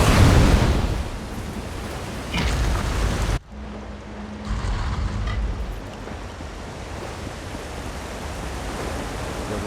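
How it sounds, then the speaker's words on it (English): A waterfall in The Elder Scrolls Online roars as a loud, steady rush of water; the noise dips sharply partway through, then continues at a slightly lower, even level. "Behind the waterfall."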